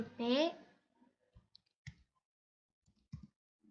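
Computer keyboard keys tapped while entering a Maple command, a few scattered faint clicks in small groups after a brief spoken word at the start.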